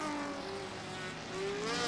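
A 1999 Motorola Cup race car laps at Mosport, its engine a steady, rising and falling whine heard from a distance as it passes, with no talk over it.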